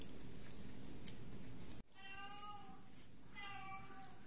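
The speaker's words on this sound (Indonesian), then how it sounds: "ada suara kucing lagi" A cat meows twice, clear and close, after a sudden click breaks a faint steady background hum; no one speaks.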